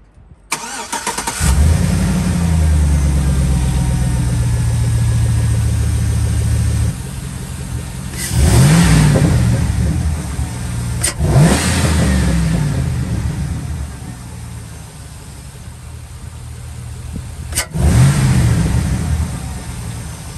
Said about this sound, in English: So yeah, now you can hear it suck in air when you actually get on the gas.